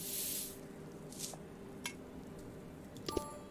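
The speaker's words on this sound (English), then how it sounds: "we're gonna have to spray this on here with our fake snow" Fake snow sprayed onto Christmas decorations in a hidden-object game, a brief soft hiss at the start, then a quieter puff, with light clicks and chimes near the end over a low background hum.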